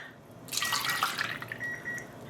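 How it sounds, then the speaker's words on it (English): Water poured from a kettle onto yarn in a shoebox for dyeing alpaca yarn: a steady, close splashing pour begins after a brief quiet start and continues to the end, with no talking. "I'm adding half of a cup of water to each of these."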